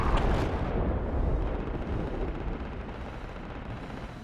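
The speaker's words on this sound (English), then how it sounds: "They threw an area attack on us" Explosive area attack in the tactical shooter game Project Reality: a loud, sustained rumbling blast and barrage of booming impacts that rolls on continuously for several seconds, with no talking over it.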